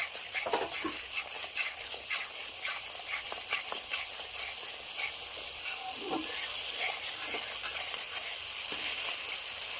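Ground fennel, cumin and coriander sautéing in oil for a vegetarian potol curry, a steady sizzle with scraping stirs and occasional utensil clinks against the pan, close and continuous.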